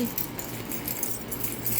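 House keys jangle in hand while a front door is being unlocked, a continuous bright metallic tinkling held close for under two seconds with no voices.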